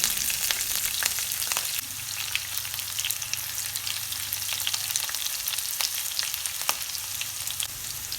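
Chopped garlic and green chilies sauté in a pan for beef chilli, giving a steady, close, broadband sizzle with scattered sharp crackles and pops throughout, with no voices.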